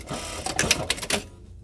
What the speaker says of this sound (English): And then I'll sew along the top side and then along the bottom side.